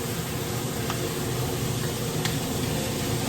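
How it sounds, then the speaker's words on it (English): Ingredients are stirred in a hot frying pan, a steady broadband sizzle with faint scraping strokes at intervals, close and continuous, with no voices. "And stir it so that it doesn't clump up."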